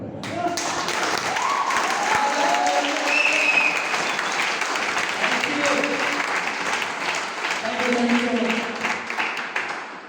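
Audience applause fills a hall after a Hindi-speaking motivational talk, dense and sustained for the whole stretch, with voices murmuring and talking underneath.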